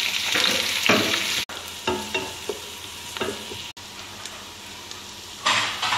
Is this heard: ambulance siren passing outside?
no